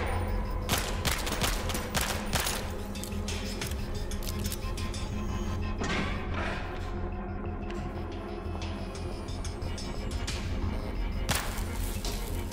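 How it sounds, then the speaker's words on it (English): Repeated gunshots in the video game Kvark, sharp cracks fired in irregular bursts and single shots over a low steady background hum, fairly quiet overall. "I don't know why I shot that camera"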